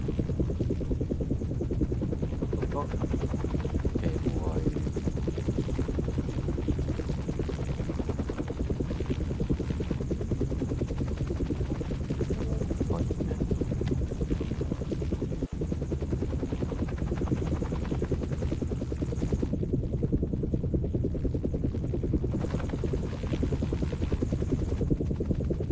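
A helicopter in a video game thrums steadily and loudly, its rotor throb and engine whine continuous for the whole stretch, with no talking over it.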